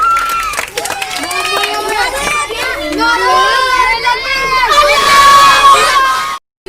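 Children in a class clapping and cheering, a loud burst of overlapping young voices shouting and claps at the start, fading out abruptly after about six seconds.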